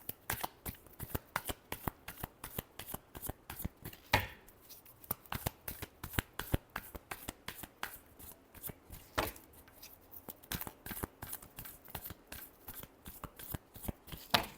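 A deck of tarot cards shuffled steadily by hand, a fast run of crisp riffling flicks and slaps repeating for several seconds, close and fairly quiet, with no talk over it.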